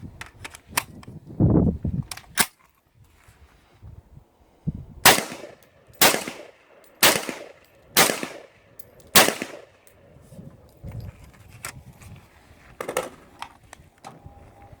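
A steel AR-15-style rifle magazine handled and seated, sharp metallic clacks and snaps in several loud, close, evenly spaced hits, with softer rattles and handling noise between them.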